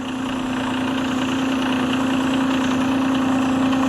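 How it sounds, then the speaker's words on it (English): Tractor engine idling steadily just after a cold start, a continuous loud, even drone with a strong low hum throughout and no voices. "It's fired one cylinder, then the next cylinder, and then the third cylinder."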